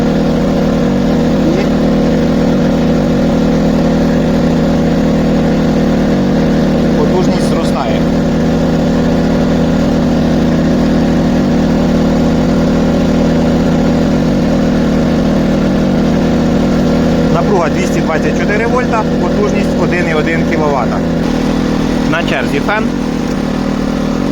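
A KOMPAK 2.3 kW dual-fuel petrol and LPG inverter generator (KGG20Ei-DF) runs loaded with a 1200 W heater, giving a loud, constant engine drone. Brief voices come through at moments.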